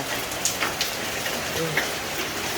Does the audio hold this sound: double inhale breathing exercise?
no